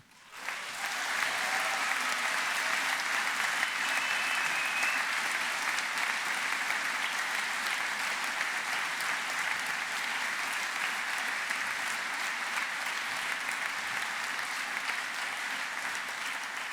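A musical theater audience gives long, loud, steady applause for the volunteers behind the technical crew and stage building, a dense wash of clapping sustained from start to finish with no voices heard.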